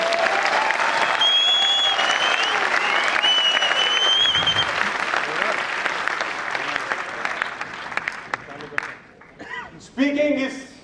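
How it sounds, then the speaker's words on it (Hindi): Loud, sustained applause from a large audience at a motivational talk, with whistles and cheers cutting through the clapping early on. It thins out and breaks into scattered claps and some voices near the end. "तो होनी चाहिए एक बार जोरदार तालियां फिर।"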